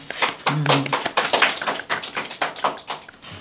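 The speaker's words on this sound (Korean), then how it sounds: "여러분 자 박수" A small group claps for a few seconds during a live Korean counseling talk show, with quick, uneven, close hand claps at moderate loudness.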